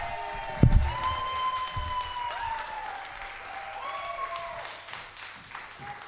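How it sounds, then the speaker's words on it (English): Comedy night audience breaking into applause with whoops and cheers, a crisp clatter of claps beneath rising whistle-like whooping calls, moderately distant and fading toward the end. "Start the round of applause. Start the whooping and the cheering"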